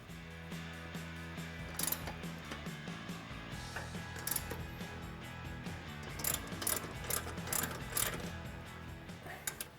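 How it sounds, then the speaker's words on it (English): A hand ratchet tightens the bolts on a Tusk rear bumper on a Can-Am, with repeated quick clicking strokes in uneven bursts, close and clear, plus occasional metallic knocks and no talking. "Then we'll tighten everything down."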